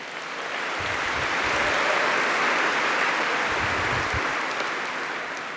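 A large audience gives a sustained round of applause for performers at a regional community program, swelling to a steady dense roar in the middle and easing slightly at the end, with no talking over it.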